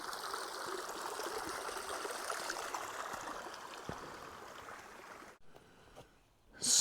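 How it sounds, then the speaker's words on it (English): A small mountain creek in Rocky Mountain National Park rushes steadily downhill, a continuous close wash of flowing water that drops away near the end before a brief louder burst. "We've basically been hiking up a little creek"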